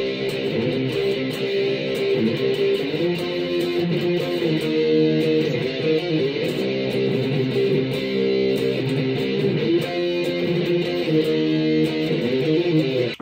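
Distorted electric guitar riff from a 1990 song, built on power chords, playing steadily and loudly alone with sustained harmonic tones throughout.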